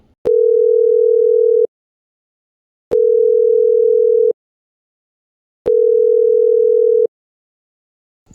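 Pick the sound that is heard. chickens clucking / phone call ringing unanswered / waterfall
phone call ringing unanswered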